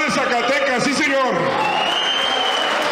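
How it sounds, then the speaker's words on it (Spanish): Loud crowd applause and cheering fill the air at a rodeo awards event in Zacatecas, steady throughout, with an amplified voice speaking over it at the start. "Y quisiera que un fuerte aplauso primero al Rey de Reyes, a ustedes y a todos estos vaqueros que han recibido"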